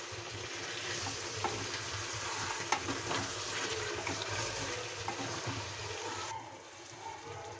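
Chicken stir-frying for a curry, the pan giving a dense, steady sizzle with scattered pops and scraping stirs before the hiss eases near the end, with no one speaking.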